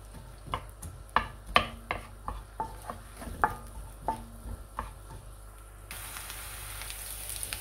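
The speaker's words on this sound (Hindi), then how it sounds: "ऑयल अच्छे से गर्म हो गया है इसमें मैं कटी हुई प्याज डाल रही हूँ और इसको फ्राई कर लेंगे हम" Chopped onions tossed into hot oil for a white bean lobia curry, a soft steady sizzle punctuated by repeated clinking stirs of a spoon against the pan, close and fairly quiet, ending in a brighter hiss.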